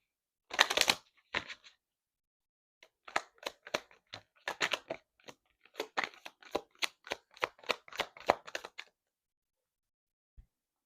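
Tarot cards being shuffled by hand in bursts of quick, crisp riffling clicks, close and fairly loud, with short pauses between runs and no talking.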